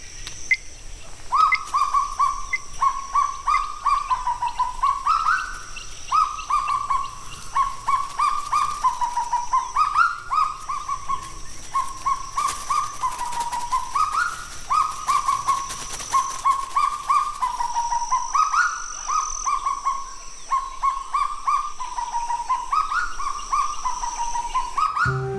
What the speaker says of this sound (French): Le cagou, oiseau endémique de Nouvelle-Calédonie, vit dans toutes les régions forestières